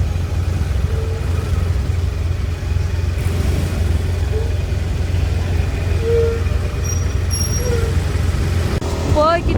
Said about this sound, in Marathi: traffic traffic